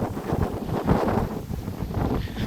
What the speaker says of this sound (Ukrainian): Тож погода приємна, але вітер. Вон знову подув.